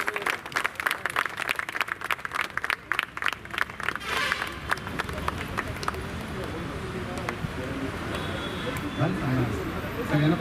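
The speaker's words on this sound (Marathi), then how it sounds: "जरा जोरदार टाळ्या वाजूया." Audience at a monthly Basaveshwar Maharaj Anubhav Mantap gathering in Nigdi claps loudly and steadily throughout, a dense crowd applause with some voices mixed in.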